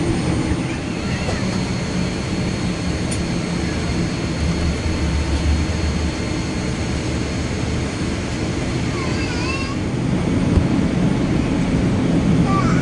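Steady, loud engine roar of a Hainan Airlines Boeing 787-9 taxiing, heard from inside the cabin as a continuous low rumble and whine that swells slightly toward the end.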